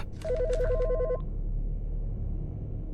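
In Autopsy Simulator, a telephone gives one warbling electronic ring lasting about a second, clear and close, then stops, leaving only a low droning ambience.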